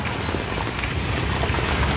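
Steady rain pattering down on the Ulhas river bridge, a dense, even hiss with low rumble filling the whole stretch without a break.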